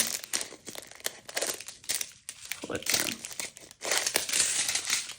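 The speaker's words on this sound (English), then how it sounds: "What I do is I kind of put my scissors there," Crinkling and rustling plastic bag close up, with irregular scraping snips as scissors cut it, while a voice speaks briefly over it.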